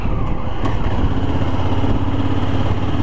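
A Honda Africa Twin motorcycle at speed on an open road, the engine a loud, steady drone with strong wind rush, its pitch climbing gently as it is pushed toward top speed.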